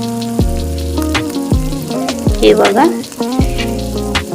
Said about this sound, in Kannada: ಎಣ್ಣೆ ಬಿಸಿಯಾಗಿದೆ, ಇವಾಗ ಎಲ್ಲ ಹಾಕಬೇಕು.